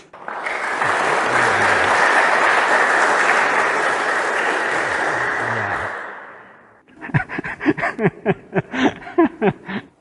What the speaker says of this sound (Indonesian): Kita beri tepuk tangan atas kedatangan minuman